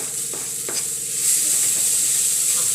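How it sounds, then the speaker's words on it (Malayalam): Tomatoes hitting hot oil in a frying pan while cooking a homestyle crab curry, a steady sizzle with a few stirring scrapes, close and fairly loud, growing slightly louder partway through. "ഇതിലേക്ക് തക്കാളി ഇട്ട് കൊടുക്കാം."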